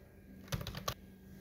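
A computer keyboard is tapped close by in a quiet room while text is entered in MS Word, giving three quick, soft key clicks over faint background hiss.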